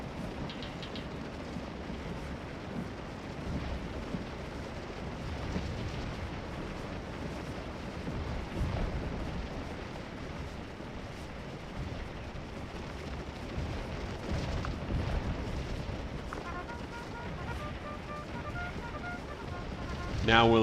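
Civil War artillery booming across a Stones River battlefield in a strategy game, a continuous rumbling barrage of distant cannon fire under steady low roar, with someone talking over it.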